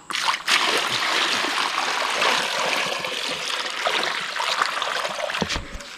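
Water pours and splashes into a tub being filled for carbon fiber hydro dipping, a continuous close rushing splatter lasting several seconds with small knocks toward the end.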